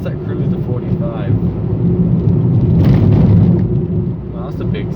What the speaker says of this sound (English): Well, that's a big speed bump.